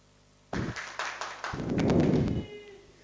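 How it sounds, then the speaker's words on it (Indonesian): A class of students in an Islamic studies lesson claps for a classmate. Several separate claps come first, then a brief burst of quick clapping that fades after about two seconds, close and moderately loud. "Tepuk tangan untuk Mas."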